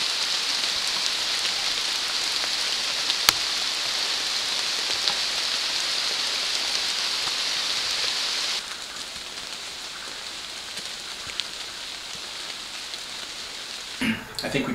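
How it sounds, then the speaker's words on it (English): Steady rain pours down on a mountain ridge during a backpacking trip, a dense hiss of drops hitting gear and ground throughout, close and even, softening slightly partway through with a brief rustle at the end. "Hey, you like the rain? I love this rain."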